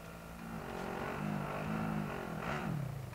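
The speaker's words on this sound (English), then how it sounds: "It's the car. Too loud." Car engine in Call of Duty: Modern Warfare revving and droning steadily, rising and falling in pitch, close and moderately loud throughout.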